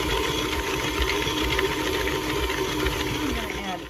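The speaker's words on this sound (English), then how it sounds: "I'm going to go ahead and zhuzh it a little bit with my KitchenAid" A KitchenAid stand mixer churns oatmeal cookie dough, a steady close motor whir with a light rhythmic knock that holds throughout and eases off at the very end.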